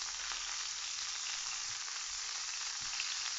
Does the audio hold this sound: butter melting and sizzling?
yes